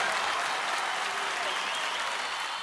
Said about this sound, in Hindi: ताली जोर से बजाओ मेरे लिए